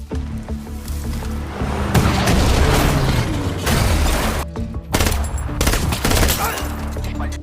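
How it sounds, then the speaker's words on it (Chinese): Dense bursts of gunfire crackle and boom in a jungle chase scene from an action film, near and loud, with sustained volleys and brief pauses amid a heavy score. "接着反向移动，不停开枪，"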